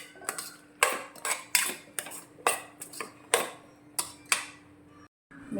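A metal spoon scrapes and clinks against a pot of Tamil kohlrabi curry (nookal kuzhambu) in a steady rhythm of about a dozen strokes, close and fairly quiet, with no talking.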